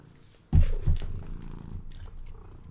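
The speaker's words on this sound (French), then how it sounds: "Donc vous allez entendre un ronron en arrière-plan probablement" A domestic cat purrs close to the microphone, a low rumbling vibration that follows a sudden soft thump and continues steadily in the background without talking.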